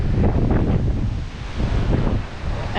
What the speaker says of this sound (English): today we got wind. Quite a bit of wind.